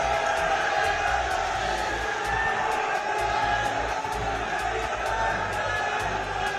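A political rally crowd in Baghpat roars with cheering and shouts, sustained and loud throughout, with sharp rhythmic claps or beats punctuating the din at regular intervals.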